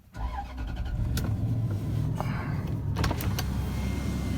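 The power window motor of a 2001 Toyota Tundra Limited work truck with a quarter million miles whirs steadily, heard from inside the cab with the cold-started engine idling underneath.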